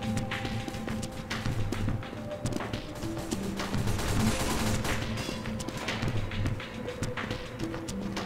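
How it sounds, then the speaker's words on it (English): Team Fortress 2 gunfire rattles in scattered bursts and single shots through a busy match, mixed with footsteps, impacts and game noise at moderate level. "Yeah, he's shooting."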